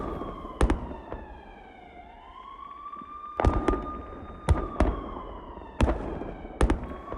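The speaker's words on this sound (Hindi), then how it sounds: "रूसी MLRS TOS-1A से थर्मोबैरिक रॉकेट लॉन्च का दावा।" Several sharp, loud bursts of thermobaric rockets fired from a Russian TOS-1A multiple rocket launcher in uneven succession, some in close pairs, over a rising and falling siren wail, with no talking.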